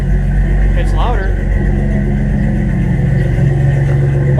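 A car engine revs loudly through a newly fitted bed-exit exhaust, a steady close droning rumble with a brief rise in pitch near the start, and a voice talks over it.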